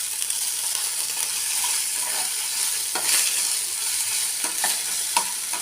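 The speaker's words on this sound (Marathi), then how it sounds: "आता आलं लसूण पेस्ट टाकते मी, अर्धा चम्मच. तिला थोडं फ्राय करून घेते." Ginger garlic paste frying with browned onion in a hot pan, a steady loud sizzle with a few clicks of stirring throughout and no talking.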